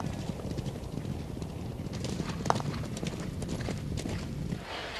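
Horse hooves clip-clop in a steady walking rhythm, moderately close, over a soft background murmur, with one sharper knock midway and the hoofbeats thinning near the end.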